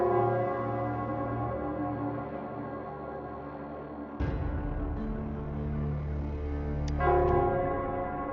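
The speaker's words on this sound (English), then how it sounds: "it's the Nell Squares bell" A church-style bell tolls in the Nell Squares setting of the video game Wuthering Waves, its strikes ringing out over a sustained musical drone with no one speaking.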